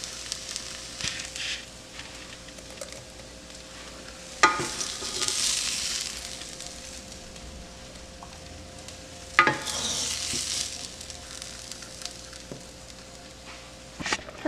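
Cooked zucchini and yellow squash are scraped from a skillet into tomato sauce, giving soft sizzling and a few clinks and scrapes of a utensil in two short bursts over a quiet kitchen hum.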